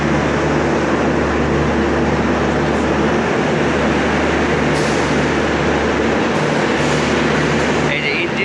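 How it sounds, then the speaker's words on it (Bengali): A loud, steady rumble of a train running on its tracks, with a low droning hum beneath constant mechanical clatter throughout. "ট্রেন চালু হয়েছে তো অনেক শব্দ"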